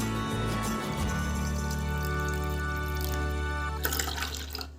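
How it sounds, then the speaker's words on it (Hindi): Water poured cup by cup into a cooking pot while preparing kadi pakoda in a kitchen, a steady continuous splashing stream ending with a brief burst of splashes, with no talking. "अभी मैं 4 कप पानी ऐड करती हूँ"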